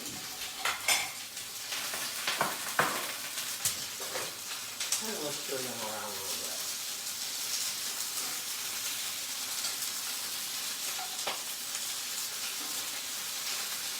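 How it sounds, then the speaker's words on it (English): Peppers sizzle, crackle and pop steadily in a hot pan with a little water, with a few clinks of a utensil stirring early on and a brief spoken remark over it. "you're going to hear them crackle because there's a little bit of water on here"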